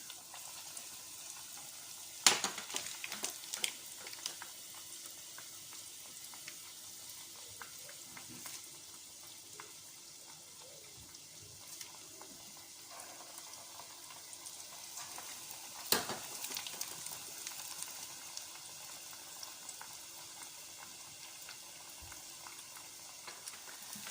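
Churros frying in hot oil give a steady close sizzle and crackle for the whole stretch, with a few louder clinks or stirring bursts near the start and again midway. No one speaks.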